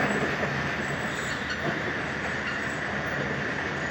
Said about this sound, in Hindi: सामने से जा रही है 13 अप अवाम एक्सप्रेस